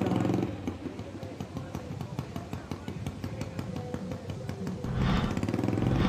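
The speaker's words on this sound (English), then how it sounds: "I can hear an exhaust in my ear right now that sounds like it's got no muffler" An unmuffled motorcycle exhaust at a Harley-Davidson hill climb, a loud, rough, rapid rumbling with clattering pulses throughout, swelling louder at the start and end.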